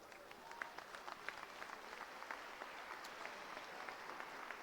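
Spectators at a girls' high school game stand and applaud both teams, coaches and officials after the final score, a faint, dense wash of distant clapping that stays even and continuous throughout.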